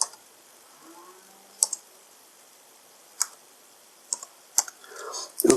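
A computer mouse clicks on a website login page, a handful of sharp, isolated clicks spaced irregularly across a quiet room, with a brief rustle near the end.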